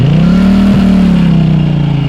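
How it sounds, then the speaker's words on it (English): A 2024 Norton Commando with an air-cooled parallel-twin engine runs through its exhaust, making a loud, steady, throbbing drone with a brief dip in pitch partway through and no talking. "It's a thumping air-cooled engine that makes around 76 horsepower"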